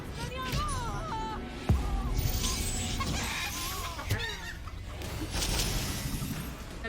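Chickens cluck repeatedly in the video game Hogwarts Legacy over a busy background of game sounds and voices, with occasional sharp knocks.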